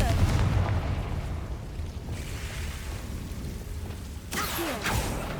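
Confringo blasting spell explosion in Hogwarts Legacy, a booming, rumbling blast with a low crackling roll, followed by more spell effects and a sharp whooshing burst near the end, with a voice shouting in the game.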